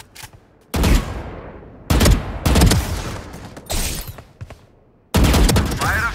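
Loud, close bursts of gunfire aimed at strafing practice bots in the tactical shooter Valorant, several sharp volleys separated by brief pauses and trailing echoes.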